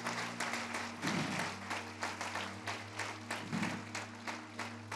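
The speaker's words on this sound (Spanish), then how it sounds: "denle un aplauso al Rey fuerte, fuerte, fuerte" A church congregation at a Christian service applauds, a steady wash of clapping beneath sustained music, with faint rhythmic pulses running through it.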